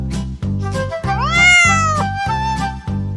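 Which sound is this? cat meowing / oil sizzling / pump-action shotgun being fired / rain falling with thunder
cat meowing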